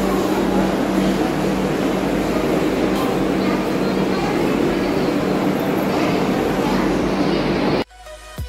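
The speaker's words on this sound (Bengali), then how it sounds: "এটা হচ্ছে কটক স্টেশনের প্ল্যাটফর্ম।" Steady loud rumble of a train at Cuttack railway station platform, the 22895 Vande Bharat Express from Howrah to Puri, continuous for nearly eight seconds before cutting off abruptly into near silence.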